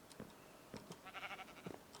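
Sheep in the Minecraft video game bleat in a few short, faint calls spread across two seconds, with no voices.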